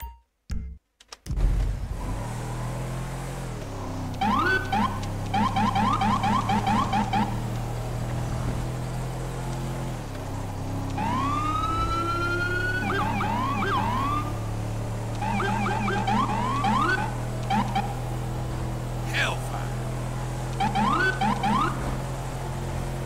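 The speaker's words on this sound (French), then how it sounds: "Est-ce que vous aimez bien la sirène, les gars? Moi, je l'adore. C'est ma sirène préférée, celle de New York." A New York police siren on a van in the LSPDFR police game wails and yelps in repeated cycles over a steady engine drone, loud and close throughout with brief pattern changes.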